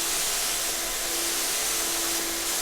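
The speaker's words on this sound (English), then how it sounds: "And now I'm applying a seal coat over that" Shellac seal coat, thinned with butyl alcohol retardant, sprays onto a water-damaged teak cabinet as a loud, continuous close-up hiss with a steady tonal whine from the spray equipment and no talking.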